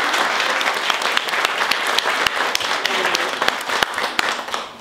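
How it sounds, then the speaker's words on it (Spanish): Parents and families at a first-grade reading event give a warm round of applause, dense steady clapping from a sizable crowd with a few sharper individual claps, sustained throughout. "nos vamos a dar un aplauso de ánimo"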